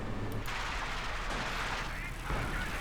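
A 76mm artillery barrage in a World War II strategy game, heard as a dense, continuous roar of overlapping booms and blasts that stays loud throughout the clip.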